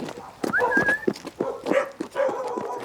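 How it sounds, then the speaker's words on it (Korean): A puppy on a rural homestead in Naju gives a few short yips and whimpering barks in quick uneven bursts, close by, with faint background voices. "강아지도 있네."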